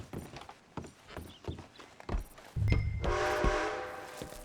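Steam train in the Red Dead Redemption 2 video game, a loud chugging rumble with a sustained whistle blast rising over faint clip-clop of horse hooves and scattered game sounds.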